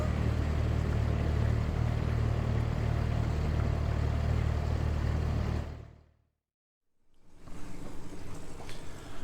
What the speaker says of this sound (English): What do I barely hear? Our new outboard.